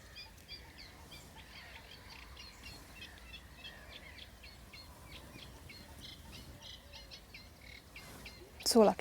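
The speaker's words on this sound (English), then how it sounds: "The chiff chaff's moved. It's a lot closer now." A chiffchaff sings at a spring nature reserve by the lakes, a rhythmic series of repeated two-note chirps at moderate distance, with a sudden louder call close by near the end.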